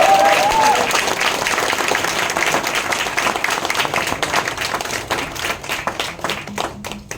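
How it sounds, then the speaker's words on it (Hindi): An audience at a Hindi play of Rashmirathi applauds in a full, sustained burst that gradually thins into scattered individual claps near the end. "मेरे ख्याल से एक बार ताली और होना चाहिए"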